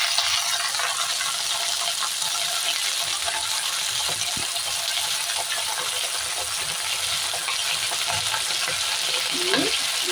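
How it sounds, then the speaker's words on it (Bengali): Green chillies and bottle gourd leaves fry in a pan, giving an even, continuous hiss with occasional light stirring scrapes up close. "ভালো করে এগুলোকে একটু ভেজে নেব"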